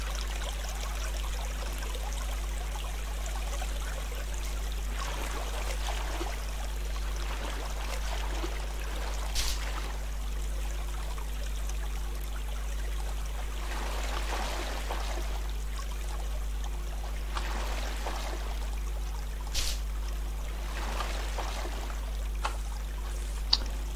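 Flowing water in the block-building video game Minetest, a steady stream-like trickling and splashing that runs continuously at moderate level with a few faint clicks, no voices.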